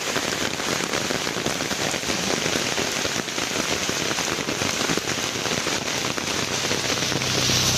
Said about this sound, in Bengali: প্রচুর বৃষ্টি এত পরিমাণ বৃষ্টি আর বাইকে বসা যায় না